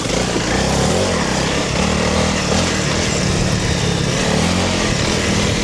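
Honda CRF300 Rally motorcycle engine running steadily while riding trails in Thailand, a continuous loud single-cylinder drone with slight fluctuations in revs throughout.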